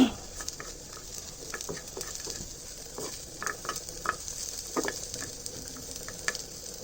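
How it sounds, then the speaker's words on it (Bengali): Onion fries in hot oil in a pan, a soft, fairly quiet sizzle punctuated by intermittent spatula scrapes and taps as it is stirred and lifted. "এই তো পেঁয়াজটাকে আমি তুলে নিই, আর এটা ভাজতে থাকবো,"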